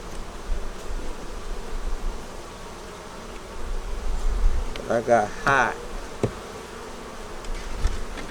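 Honey bees festoon on foundation inside an open hive, a dense close buzzing drone running throughout, with someone briefly speaking over it midway.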